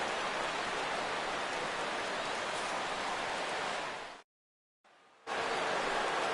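Steady simulated rain in a PS4 baseball game during the sixth inning, a dense even hiss of falling water that cuts out briefly to silence before resuming.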